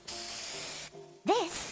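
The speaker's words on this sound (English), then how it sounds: "One spray to victory, Fluffy Tail Hairspray!" Hairspray sprayed in an NTE game cutscene, a steady close hiss that lasts close to a second, then a short second burst with a voice cutting in over it.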